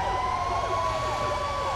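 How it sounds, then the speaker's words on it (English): Several emergency vehicle sirens wail at once in the GTA 5 video game, overlapping rising and falling tones sounding steadily and loudly throughout with a low rumble beneath and no talking. "That's a lot of sirens, though."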